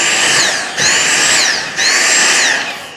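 Dyson V6 cordless vacuum with a failing battery, its loud, close motor whine surging and repeatedly cutting out, dropping away and restarting about three times in quick succession.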